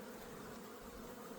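Honey bees buzzing on a hive lid during a varroa mite check, a steady dense hum of many bees close by, faint and continuous with no talk.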